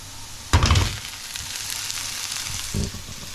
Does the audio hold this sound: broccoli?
yes